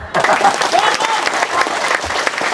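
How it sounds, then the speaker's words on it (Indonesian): Loud, close audience applause breaks out at a church foundation-stone ceremony, a thick burst of clapping with a few raised voices and cheers mixed in, sustained throughout. "Tepuk tangan untuk saya."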